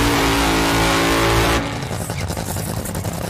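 A loud top fuel dragster engine drone with a heavy low rumble, during qualifying, cuts off abruptly partway through, leaving a quieter, rougher idling mechanical noise.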